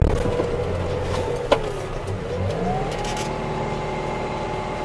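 A John Deere 6115M tractor engine runs steadily nearby in a field, with a rising pitch sweep partway through as revs climb, plus a brief sharp knock midway.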